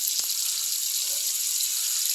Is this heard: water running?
yes